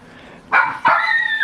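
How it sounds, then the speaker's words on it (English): A dog barks twice up close, short loud yaps with a whiny, tonal edge trailing off. "That's our dog."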